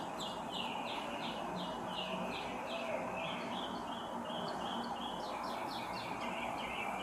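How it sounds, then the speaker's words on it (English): Birds chirp and trill in repeated bursts outdoors, a steady run of bright calls over a soft constant background hum. "You hear the birds chirping."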